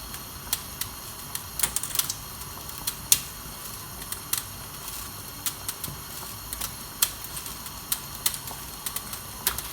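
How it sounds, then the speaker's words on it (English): Scissors snipping spaghetti into a pot of minestrone soup, a string of sharp, quiet clicks and snips in an irregular rhythm, close up, with no talking. "I might cut the spaghetti into the soup. With some scissors."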